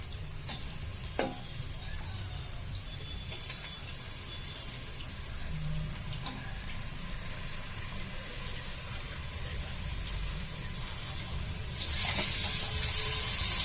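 Half a kilogram of freshly washed mutton sizzles steadily in a hot pan, a continuous frying hiss with a few soft stirring knocks, no voices, and a louder burst of sizzle near the end.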